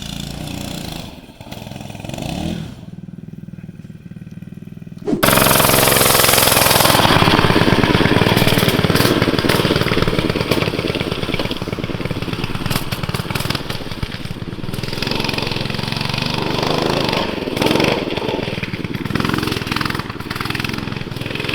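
A Tillotson 212R small racing engine snarls loudly with a rapid buzzing rattle, starting abruptly after a quieter stretch and running steadily to the end.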